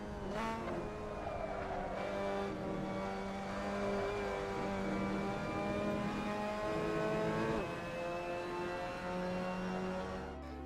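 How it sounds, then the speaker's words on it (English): A Mazda MX-5 Cup car in the Assetto Corsa racing game laps the Sachsenring circuit, its engine droning steadily and rising and falling through gear changes and revs, with no one talking over it. "So that was a lap around Sachsenring with the Mazda MX-5 Cup"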